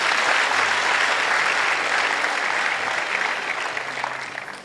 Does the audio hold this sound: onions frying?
no